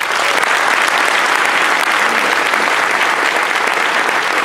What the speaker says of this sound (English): And the governor deserves a round of applause for that.